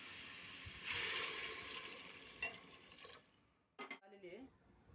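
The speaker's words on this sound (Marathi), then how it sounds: "भाजून झाले, याच्यात पाणी टाकू." Water is poured into roasted chole masala in a pot, a short rush of liquid followed by softer bubbling and sizzling, and then a person speaks briefly.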